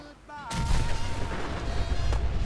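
A car explodes in Fallout 4 with a sudden loud boom that breaks into a heavy rumbling roar, and a second blast hits near the end.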